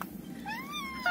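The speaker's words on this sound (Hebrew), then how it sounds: "סנאוי זה החתול בשכונה" A neighbourhood cat gives one brief, rising meow midway through, close by and fairly clear over a quiet outdoor background.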